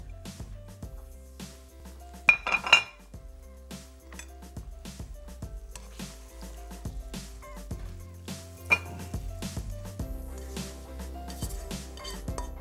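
Cooked meat, a gosht dish like the kind served at home feasts, being dished out onto a serving plate, with scattered clinks of a utensil against the dish over soft background music.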